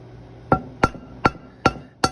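Five sharp, evenly spaced hammer taps ring out as gasket holes are punched over the guide pins of a Yamaha Chappy moped engine, each strike crisp, close and metallic with a short decay.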